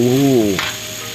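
A voice trails off, then cumin leaves drop into a pan of sizzling pork stir-fry, setting off a sudden, close burst of loud hissing sizzle.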